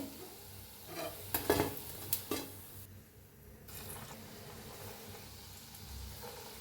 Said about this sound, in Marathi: घालताच वर यायला लागलेत, मस्त आहेत पकोडे एकदम। तळून घेऊया ह्यांना चांगलं।